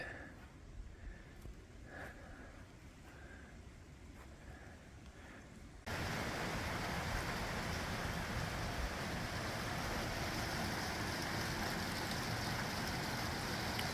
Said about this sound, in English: You can't get me, Rain.